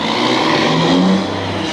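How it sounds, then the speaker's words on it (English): A truck drives past a house, giving a loud, steady engine rumble and road roar that fills the short stretch and swells slightly toward the middle. "I have a truck driving by my house right now, so it's pretty loud."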